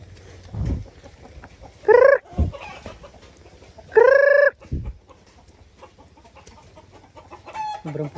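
Chickens cluck in a few loud, drawn-out calls nearby, separated by quieter pauses with soft scuffling and background farmyard noise.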